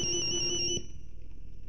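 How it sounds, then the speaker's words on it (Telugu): A mobile phone rings with an electronic alarm-like tone, a steady repeating melody that cuts off partway, leaving a faint pulsing trace, heard indoors at low volume without talk. "ఇదేంటి నా సెల్ కూడా రింగ్ అవుతుంది?"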